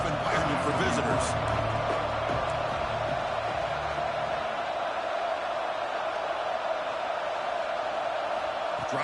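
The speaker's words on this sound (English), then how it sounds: "Listen to the crowd energy here in the early going." Dense, steady roar of a stadium crowd at a college football game between Hawaii and Louisiana, loud and unbroken throughout, with a low murmur of voices underneath early on.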